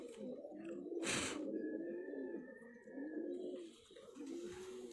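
Dab and Missay pigeons in Karachi coo in repeated low, rolling phrases, close and fairly quiet, with a brief higher chirp and faint background noise.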